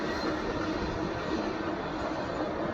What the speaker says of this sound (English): it's just going so much faster than the trains we're used to seeing back in Tennessee.